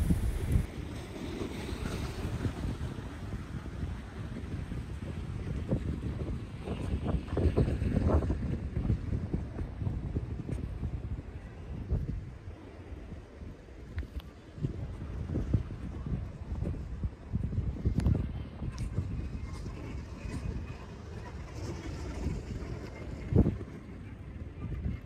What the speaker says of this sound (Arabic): سامعين صوت البحر يا جماعة؟